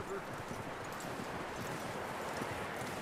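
Horse hooves clip-clopping in Red Dead Redemption 2, a continuous rhythmic patter of steps under a dense bed of game ambience, with a voice speaking briefly.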